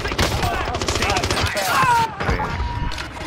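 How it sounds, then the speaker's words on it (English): LC10 submachine gun firing in Call of Duty, a fast, loud stream of rapid shots running almost continuously, with a brief whine partway through. "God damn, John, put the LC gun to work."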